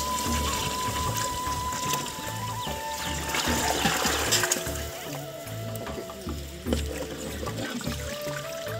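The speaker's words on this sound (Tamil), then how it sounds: "தண்ணி தேவையான அளவு ஊற்றிக்கலாம்" Water poured into a cooking pot for chicken biryani in a village kitchen, a steady trickling and splashing stream with low background rumble, no voices.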